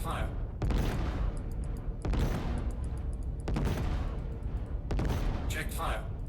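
Ship guns, including heavy Medusa cannons, fire at an Idris's armor in the space game Star Citizen, in several loud back-to-back volleys of rapid booming shots with brief gaps between them.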